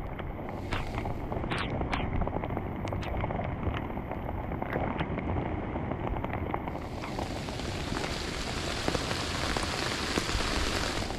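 Very heavy rain pours down suddenly over a cucumber harvest field, a dense, steady roar of drops on surfaces that thickens and brightens partway through, loud and continuous with no talk.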